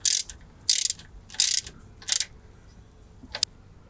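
Ratchet tightening a brake caliper on a MK2 Volkswagen Golf: four short bursts of rapid clicking in quick succession, then a pause and one brief final click, close up with no talk.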